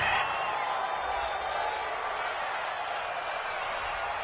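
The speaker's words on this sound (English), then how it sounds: "This home crowd, they're happy with that call." Home crowd in an NFL football stadium roaring after a penalty call, a broad, steady wash of distant cheering and whoops, fairly faint and continuous.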